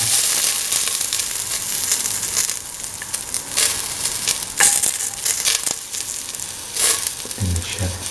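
Ginger and garlic sizzle and fry in a pan for a stew of kidney beans, tomato and coconut milk, a steady broadband hiss with brief stirring scrapes and a louder burst near the end.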